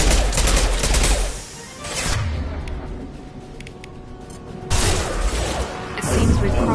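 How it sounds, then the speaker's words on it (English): Heavy weapon fire from an impact shot in Mass Effect 2, loud bursts of rapid firing and crackling blasts that fade through a quieter middle stretch before surging again near the end. "Firing an impact shot."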